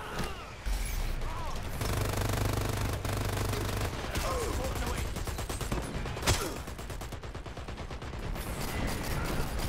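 A called-in airstrike in the shooter video game Dirty Bomb, a dense, continuous barrage of rapid gunfire-like blasts and booms lasting several seconds, loud and close, with a sharp bang near the end.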